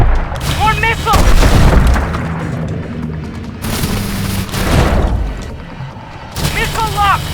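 Repeated heavy booms of missile explosions and bursts of gunfire from Call of Duty: Advanced Warfare, loud and close, rolling in waves across the scene with shouted voices in between.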